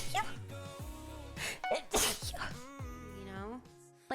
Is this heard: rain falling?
no